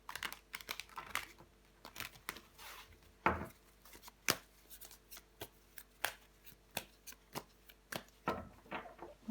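Tarot cards being turned over and laid down one by one on a table, a run of short crisp slaps and papery flicks, close and fairly quiet, with soft shuffling between them.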